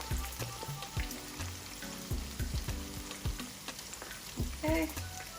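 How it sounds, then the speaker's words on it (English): Goat meat sizzles and crackles steadily in hot oil in a kitchen, fried until golden brown for jollof rice, with occasional clinks and stirring knocks over the continuous frying hiss. "let's fry our meat now."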